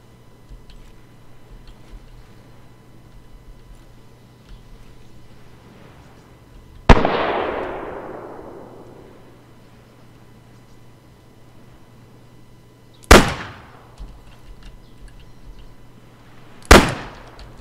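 Three sharp, loud gunshots from the ArmA 3 video game with the Faces of War mod, spaced several seconds apart, each with a long rolling echo. The first shot carries the longest reverberant tail, over a low, steady background hum.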